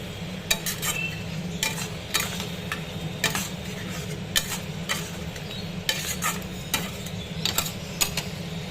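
Bhetki fish bones cooking with torn green chilli in a pan, a steady sizzle under repeated scraping stirs from a utensil, close and fairly loud, with no talking.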